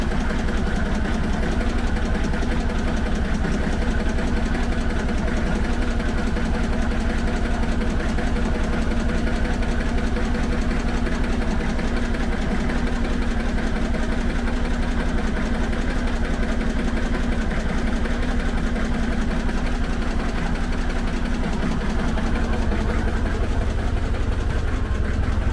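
A Citroën 2CV's small engine idles steadily and up close after a restart following four months of winter storage, still cold, with a continuous low putter and no talk over it.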